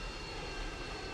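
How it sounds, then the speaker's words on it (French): A fighter jet's engine roars in the Roblox game Mad City, a steady, loud, broadband jet rush that fills the whole moment without a pause. "Il y a un nouvel avion de chasse."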